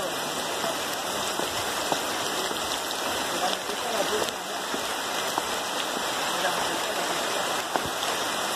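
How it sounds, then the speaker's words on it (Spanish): Heavy rain pours steadily over a street in the city of Cali, a dense, unbroken hiss with scattered sharper drops, loud and close throughout. "Llueve muy fuertemente aquí en la ciudad de Cali"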